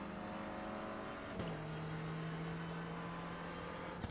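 A Renault Clio race car in the iRacing simulator at VIR holds a steady engine drone, then a sharp shift in pitch as it passes, with a brief click at the end.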